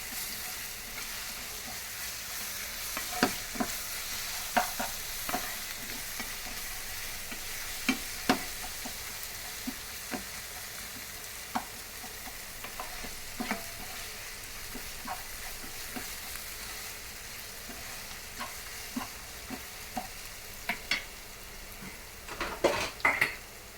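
Spiced gongura paneer pulao mixture stirred in a pan, with a soft steady sizzle under scattered clinks and scrapes of a spoon against the metal, faint and close.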